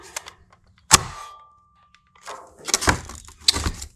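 A Nerf Fortnite HC-E blaster modded to fire short darts gives one sharp, close click-thunk of release with a brief ringing tail, followed by quiet handling clatter.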